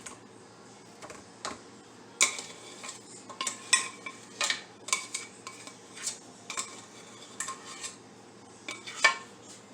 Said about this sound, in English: I just use my potato masher and I move those potatoes straight into the bowl